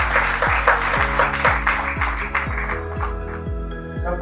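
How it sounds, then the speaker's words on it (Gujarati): Applause from an audience at a business networking festival, a loud dense wash of clapping that carries the whole stretch, with steady musical tones sounding beneath it. "એક વખત એમના માટે જોરદાર તાળીઓ થઈ."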